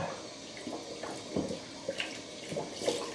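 Cold water runs from a bathroom tap during rinsing after a shave, a soft continuous splash and trickle with intermittent splatters from hands moving through the stream, fairly quiet and close, with no voices.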